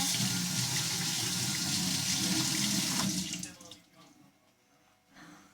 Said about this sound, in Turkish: Ben önce elimi yıkayayım iki dakika.